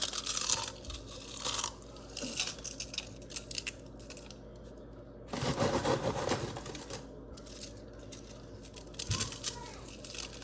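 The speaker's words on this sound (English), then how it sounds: "I just like to take it and like crunch it up on top." Cereal is crunched up by hand and sprinkled over peaches, giving close, crackly bursts of crunching at the start, in the middle and once more near the end, with quieter handling sounds between them.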